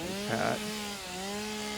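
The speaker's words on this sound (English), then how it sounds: "No, that was a chainsaw." A chainsaw in the video game Satisfactory drones with a steady, tonal engine hum, its pitch briefly roughening and bending as it bites into a tree, close and continuous.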